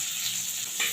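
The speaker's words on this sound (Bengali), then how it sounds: "ডিমগুলো দিয়ে দিলাম, অল্প হলুদ আর অল্প একটু নুন দিয়ে ভেজে নেব।" Eggs frying in a kadai with a little turmeric and salt, a brief, even hiss of sizzling oil, close and steady throughout.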